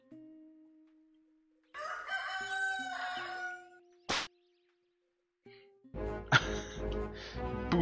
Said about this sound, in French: Des poules du chaos.